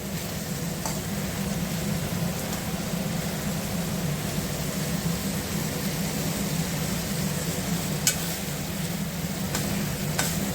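Ridge gourd fries with egg and spices in a hot pan, giving a steady, loud sizzle that carries on without a break, with a few faint clinks of a spatula and no talking.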